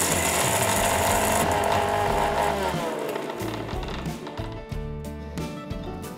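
Close and loud, a mixer grinder runs dry, milling roasted gram with spices into flour, its motor whine slowly dropping in pitch while rattling, clattering bursts build toward the end.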